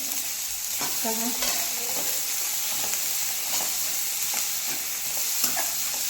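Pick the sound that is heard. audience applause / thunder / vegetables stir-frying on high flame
vegetables stir-frying on high flame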